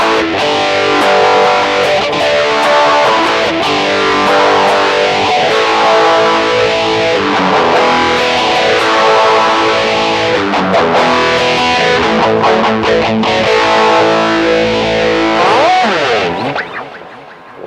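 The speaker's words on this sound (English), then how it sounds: "Now you have a distortion and phase." Electric guitar played through distortion and phaser effects, sustained chords and notes with a sweeping, swirling tone, loud and continuous, fading out at the end.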